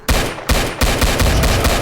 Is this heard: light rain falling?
no